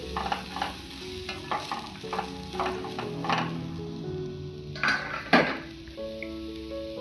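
Red spinach stir fry (Kerala cheera thoran) stirred with salt in a pan: steady close sizzling with repeated spoon scrapes and clinks against the pan, a couple of sharper metallic knocks midway, no talk.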